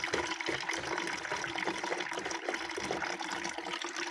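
Water poured into the siphon of a camper toilet while preparing the camper for winter, a steady rushing, splashing flow that runs continuously at moderate volume.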